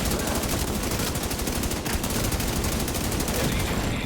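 Dense, continuous gunfire from The Division 2, rapid shots layered into a loud, unbroken barrage that fills the whole stretch without pause.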